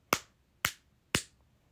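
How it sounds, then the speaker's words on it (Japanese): A bare hand slaps against a bare leg in shorts three times, evenly spaced about half a second apart, each a sharp, close smack in an otherwise quiet room. "左手で携帯持っとるさ、で右手でこうパチパチ拍手できんけん、足と手で拍手してます"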